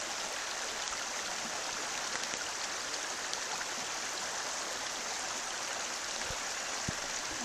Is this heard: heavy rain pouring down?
yes